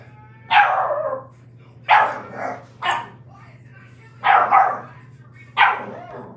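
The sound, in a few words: puppy dog playing and barking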